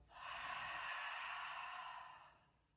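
One long, deep breath pushed out through an open mouth during a yoga session, a close, breathy rush that swells quickly, holds steady for about two seconds, then fades, with no talking over it.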